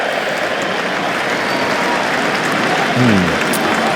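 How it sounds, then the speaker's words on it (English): A cricket Test match crowd, England v India, sends up a broad wash of applause and cheering from a distance after a wicket, with a voice briefly rising above it near the end. "There's the cheer."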